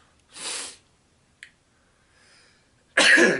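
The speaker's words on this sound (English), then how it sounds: "I'm about to sneeze." A person sneezes and breathes sharply nearby: a short breathy burst, a faint click, a quieter exhale, then a loud explosive burst at the end, all without talk.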